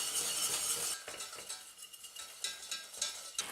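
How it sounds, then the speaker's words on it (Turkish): A whisk scrapes and stirs a flour roux in a pan, with a continuous clinking, swishing metal-on-pan sound and faint sizzle, rhythmic strokes rising and falling in loudness. "çırpıcı ile şöyle güzelce karıştırıyorum"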